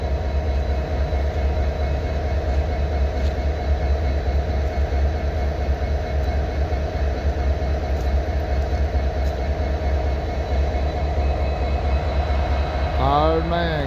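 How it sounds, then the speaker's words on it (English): A freight train rolls steadily past nearby in the rail yard, a constant heavy rumble with ringing tonal hum, continuing unbroken and loud throughout, with a brief squeal near the end. "He tells me this is a train."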